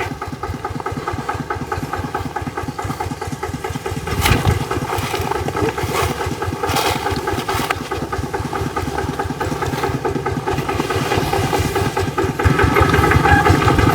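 A tractor engine runs steadily nearby during coffee-bean processing, a loud, rhythmic knocking chug that holds throughout and picks up slightly toward the end.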